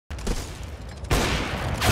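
Gunfire from CS:GO on a surf map, a loud broadband blast that trails off, then a second heavier crack that rings out and sustains to the end, close and harsh with no talk.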